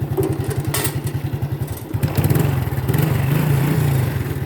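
A Honda Wave 110i motorcycle engine cranks with rapid even chugging pulses, catches after about two seconds and settles into a close, steady running putter, with no talking.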